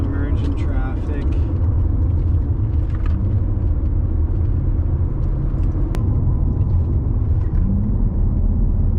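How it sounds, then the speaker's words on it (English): A 1991 Mercedes 500SL driving onto a freeway, with a steady low engine and road rumble from inside the car, continuous throughout and a few faint clicks and rattles on top. "Alright, we are rolling onto the freeway."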